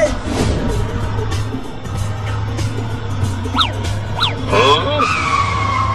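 An auto-rickshaw tempo is driven in a comedy skit, with a steady engine drone and repeated tire squeals and skids over noisy background and occasional voices.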